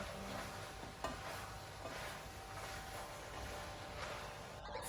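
Peppers and cabbage stir-frying on high heat for a vegan tofu satay curry, a steady close sizzle with stirring and faint scraping of the pan, uninterrupted by talk.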